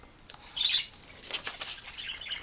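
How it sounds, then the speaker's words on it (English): Birds chirping and twittering outdoors on a cloudy day, faint and intermittent, with scattered high calls and a soft flutter over quiet background. "we're getting a little serenade from the birds today"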